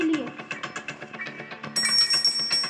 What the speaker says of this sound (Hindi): यहाँ पे हमने घंटी बजा दी गाइस